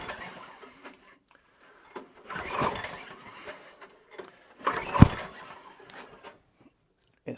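A lawnmower with no spark from a suspected faulty ignition coil is cranked without starting. Two short mechanical rattling bursts are separated by near silence, and the engine never catches.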